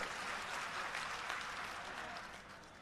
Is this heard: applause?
yes